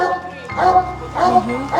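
Dogs at a rescue shelter enclosure give a few close, yipping barks and whimpers, mixed in with people talking nearby.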